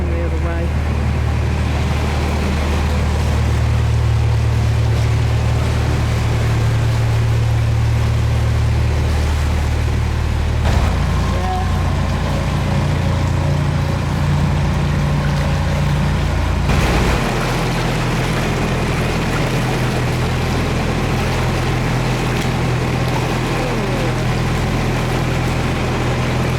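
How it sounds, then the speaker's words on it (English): A narrowboat engine chugs steadily nearby on a canal, a low continuous rumble with wind and water noise, shifting in tone as it passes. "And already there's a boat coming the other way."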